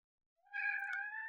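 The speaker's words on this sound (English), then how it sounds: "Oh my goodness, it's kitty cat." A single drawn-out cat meow, clear and fairly close, rising in after a moment of silence and holding steady for nearly a second, heard alone without talk.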